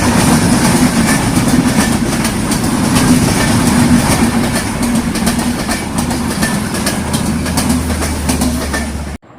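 A train rolling past right beside a trackside clay-pot tea stall in Atrai, Naogaon, loud and close with rhythmic clickety-clack of wheels and a steady rumble that continues to the end.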